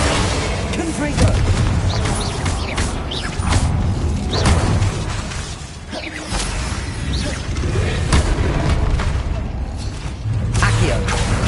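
Confringo spell explosions in the video game Hogwarts Legacy, repeated booming blasts and thuds amid whooshing combat effects, loud and dense throughout.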